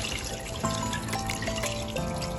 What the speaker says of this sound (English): I'm going to pour it in the meat to start making the soup.